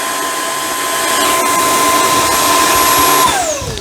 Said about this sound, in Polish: Po zgaszeniu przyciskiem odkurzacz też jeszcze chwilę sam wciąga